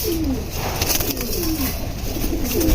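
Silver Line pigeons in a home loft coo in a steady run of repeated low, falling calls, close and fairly loud, with no talking over them.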